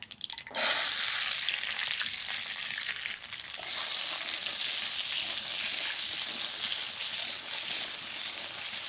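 Karamcha fruit is tipped into dried chili and mustard seeds frying in oil, with a burst of louder sizzling that settles into a steady, close hiss with stirring, and no voices.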